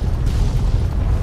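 Raven Rock blowing up in the PC video game Fallout 3: a sustained heavy rumble of explosions, loud and deep, with no one talking over it.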